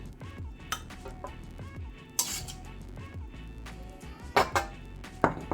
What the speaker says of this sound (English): Serving up our beautiful fried rice